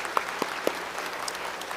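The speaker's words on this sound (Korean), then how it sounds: "우리 오래간만에 수고했다고 박수 한번 하겠습니다" A church congregation applauding after a Sunday service, a short burst of dense clapping at moderate distance with a few sharper individual claps standing out.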